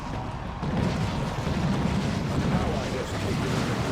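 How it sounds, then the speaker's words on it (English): A Cyclone Missile Launcher barrage in the Dawn of War 2 video game, heard as a dense, continuous roar of overlapping explosions and rumbling blasts. It stays loud and steady throughout, and commentary speech runs underneath it. "there's a Cyclone Missile Launcher barrage"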